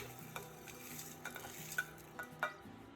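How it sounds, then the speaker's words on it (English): Chili oil ingredients are stirred in a pot of cooking oil heating over low heat on a stove, giving a soft continuous sizzle with a few light clinks and scrapes of a utensil against the pot. "Then add all the ingredients you prepared earlier and begin heating over low heat."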